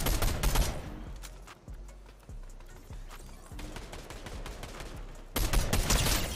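Gunfire in Fortnite: rapid bursts of shots crackle loudly at the start and end, with a quieter stretch of scattered single shots and clicks in between.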